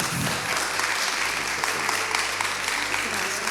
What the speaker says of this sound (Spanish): un aplauso para ese castillo